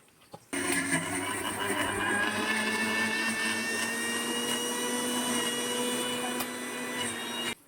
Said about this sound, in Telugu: ఇప్పుడు మిక్సీలో వేసుకొని మొత్తం గ్రైండ్ చేస్తాం అనమాట